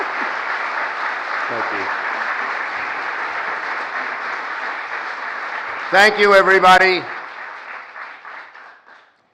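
A crowd applauds during a presidential speech on the Inflation Reduction Act, a steady wash of clapping that holds for about six seconds before a voice takes over and the applause fades beneath him.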